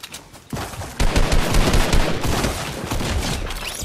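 Shotgun fire in Fortnite, dense rapid bursts of shots and booming impacts layered into a loud continuous barrage that builds after a brief quieter start.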